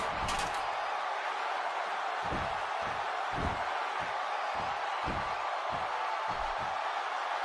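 A wrestling arena crowd at a no-disqualification match roars in a loud, unbroken wash of noise, with a series of heavy, irregular thuds landing underneath it.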